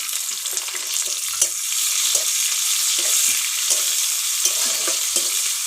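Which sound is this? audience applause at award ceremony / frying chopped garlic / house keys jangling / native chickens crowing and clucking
frying chopped garlic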